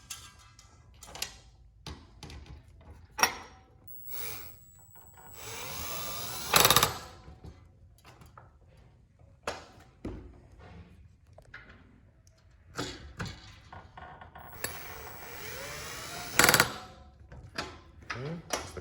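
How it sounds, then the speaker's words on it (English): Power drill boring holes for a Bahama shutter awning hinge assembly, with two loud bursts of drilling standing out over scattered clicks, taps and handling noise at moderate distance. "we're going to go ahead and start drilling in these holes."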